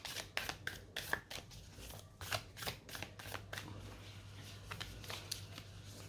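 Oracle cards being shuffled by hand, a run of crisp riffling bursts in quick succession over a faint steady hum, close and fairly quiet.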